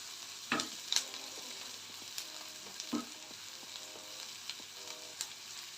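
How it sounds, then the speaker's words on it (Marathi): Onion and green chili fry in a pan, giving a steady, close sizzle with a few soft scraping stir clicks scattered through it. "जेणेकरून कांदा आणि मिरची दोन्हीही नीट तळलं जाईल."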